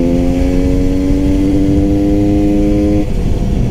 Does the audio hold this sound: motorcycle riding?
yes